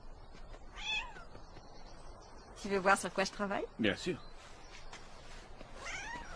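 A cat stuck up high meows plaintively, one clear meow near the start and another at the end, with people talking between them.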